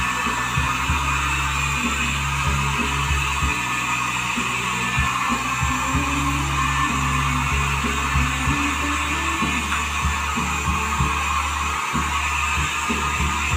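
A blow dryer runs after a bath: a steady, loud, close whir with a low throbbing hum beneath it, continuous throughout with no talking.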